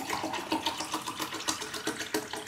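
RO water poured into a plant pot gives a continuous splashing and gurgling stream with uneven bubbling pulses, close and moderately loud, with no talking.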